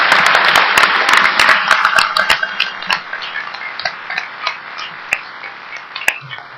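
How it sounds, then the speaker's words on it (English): A crowd applauds for comic creators Scott Snyder and Greg Capullo, starting as dense loud clapping and thinning out into scattered individual claps that fade over several seconds. "So can we have a round of applause,"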